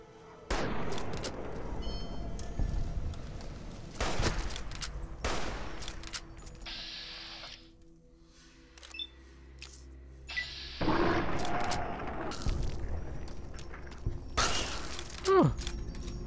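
Bursts of gunfire in Fallout: New Vegas erupt repeatedly, loud and sharp, with scattered volleys and rattling shots separated by brief quieter stretches.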